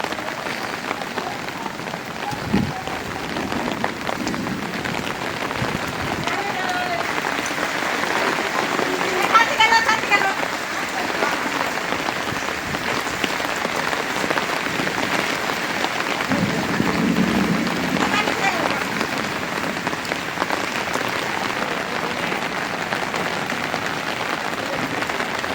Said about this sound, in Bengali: প্রচণ্ড ঝড় বৃষ্টি